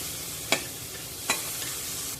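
Shrimp sauté in a pan of sizzling tempered oil for a shrimp curry, the frying hiss steady and close, broken by two distinct stirring scrapes, with no voices.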